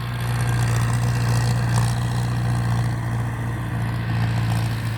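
A Ford 6610 single-axle tractor engine running at a steady, loud, low drone with a deep exhaust rumble, continuous and unchanging throughout.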